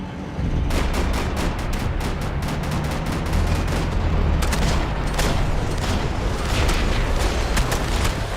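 Rapid gunfire in the video game Max Payne 3, a sustained run of sharp shots and booms, loud and close, repeating densely across the whole stretch without talk.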